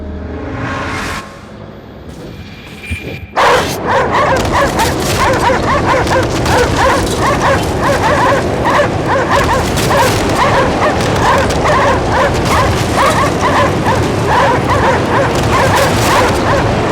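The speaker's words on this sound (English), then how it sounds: "The dogs barking would seem to indicate that there's something there." Dogs bark in the video game Cryostasis, repeated yips and barks sounding continuously and loudly over a steady ambient background after a brief quieter opening.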